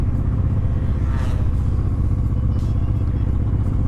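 A Honda Transalp converted to a supermoto thrums steadily while riding, its engine note loud and close with a rhythmic pulse, some clatter and passing wind, and no talk.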